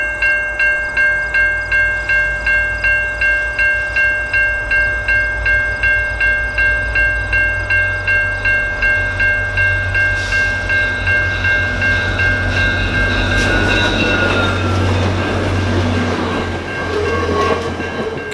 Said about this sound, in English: the Canadian is truly one of the world's last great trains